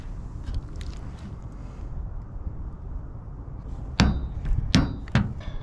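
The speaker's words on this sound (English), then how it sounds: "I'm going to use a rubber mallet because I don't want to damage my socket" A rubber mallet strikes a socket to seat a ring on a Ford Ranger front drive shaft CV joint, giving three sharp, close knocks near the end after a stretch of quiet shop background.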